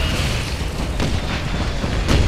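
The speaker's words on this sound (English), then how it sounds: "Oh god, mortar fire!" Mortar fire explodes in the Wolfenstein (2009) video game, with several heavy booming blasts, close and loud, over continuous rumbling battle noise and no talking.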